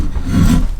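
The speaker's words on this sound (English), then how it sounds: "Easier to get a straighter planing cut with the draw knife." A draw knife planes green wood for a knife handle, giving one short, rough rasping scrape up close.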